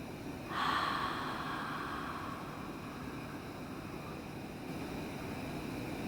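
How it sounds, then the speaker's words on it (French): Slow exhale through the mouth during a yoga breathing exercise, a soft, close breathy rush that rises then gradually fades over several seconds in a quiet room. "Expirez par la bouche."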